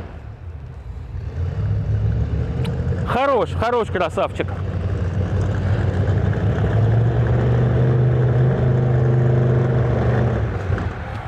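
A BMW K100 hot rod motorcycle engine idles high, around 2000 rpm, with a deep, rough rumble and rises in revs, steady and close, while someone talks over it.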